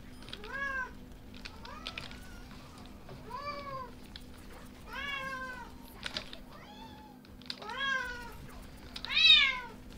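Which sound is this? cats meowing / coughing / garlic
cats meowing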